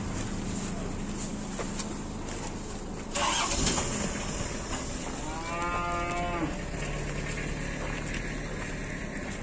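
One drawn-out cow moo rises over a constant engine-like truck rumble during loading, following a short burst of clattering noise.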